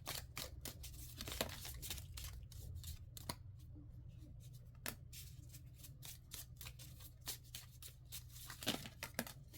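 Close, dry papery rustling and snapping as tarot cards are shuffled and drawn, with quick irregular flicks and slides throughout, and no talking.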